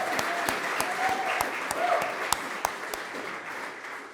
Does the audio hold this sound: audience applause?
yes